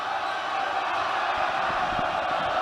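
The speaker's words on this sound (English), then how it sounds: "The crowd coming alive." High school basketball crowd in a gym cheering and roaring steadily at a La Salle College High School versus Father Judge game, a dense, sustained wash of voices with no pauses.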